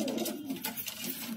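Pigeons nesting over eggs coo in soft, rolling low calls, close by and continuous, with no talking.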